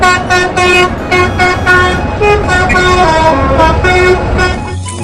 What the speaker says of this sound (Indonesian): Mobil bus telolet.